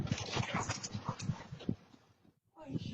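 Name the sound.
puppy whimpering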